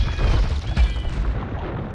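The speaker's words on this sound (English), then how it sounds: "Bombard cannons doing a lot of damage to them" Deep booms and rumbling blasts from bombard cannons firing in the Age of Empires 2 video game, a heavy low barrage with overlapping impacts, loud and continuous.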